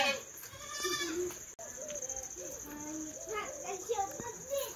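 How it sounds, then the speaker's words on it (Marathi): A billy goat on a Marathi village farm bleats several times in short, wavering calls at close range. Other faint voices and a thin constant whine sit in the background. "तर ही आमचा बकरा"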